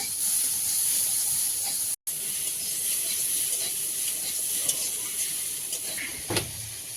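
Potato pieces go into hot oil and spiced masala, giving a bright, steady hissing sizzle with a brief break and a few small clinks of stirring near the end.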